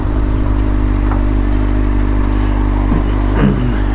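A motorcycle engine idling loud and close with a steady low throb while the rider downshifts and lets out the clutch, a small rise in revs near the end, and no talk over it.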